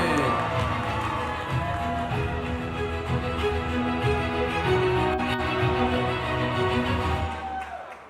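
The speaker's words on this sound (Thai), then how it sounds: "ขอเสียงปรบมือด้วย" A crowd applauds and cheers at a Pond's brand pop-up event with a brand ambassador on stage, a loud, continuous wash of clapping and voices under amplified music that lasts throughout.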